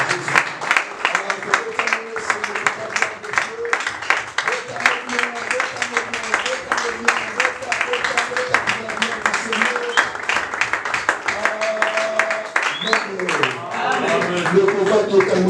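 A church congregation applauds loudly and continuously in dense rhythmic clapping, with voices mixed in and a rising cheer near the end.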